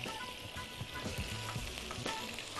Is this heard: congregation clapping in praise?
no